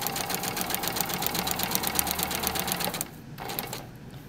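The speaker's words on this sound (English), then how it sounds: "turn on your sewing machine" A sewing machine runs in a rapid, even mechanical chatter for about three seconds, then slows and stops, leaving a quieter hum.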